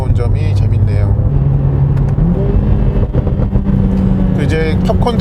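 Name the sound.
exhaust pops on lift-off, Mercedes-AMG CLA45S race mode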